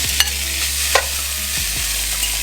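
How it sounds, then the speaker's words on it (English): Marinated banana peel frying in a preheated pan over medium heat, a steady broadband sizzle with a few sharp crackles and stirring clicks, close and continuous without talk. "preheat a frying pan to about medium heat, and then yeah, get your marinated banana peel and just fire it in there"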